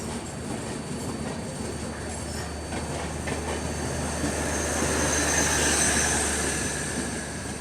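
The Mandovi Express, running from Mumbai to Goa, moves along the rails, heard from on board as a steady rolling rumble with a rattling clatter that swells gradually toward the end.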